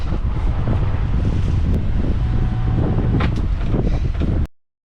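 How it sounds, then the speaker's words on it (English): Steady wind roars over the open deck of a Lagoon 42 catamaran drifting in toward its mooring, a loud continuous buffeting hiss with low rumble and no voices. "It's windy."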